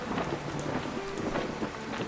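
Heavy stormy rain pours steadily with rumbling thunder underneath, a dense continuous downpour heard alone without any voices.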